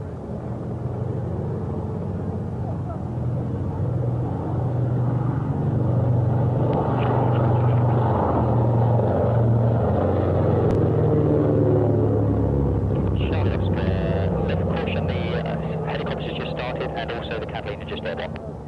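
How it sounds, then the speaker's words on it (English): Twin radial engines of a Consolidated Catalina flying boat rolling down the runway at an air show, a steady loud droning rumble throughout, heard under continuous commentary over a public address. "the two right radial engines, as the Catalina is rolled down the runway with John Watts at the controls."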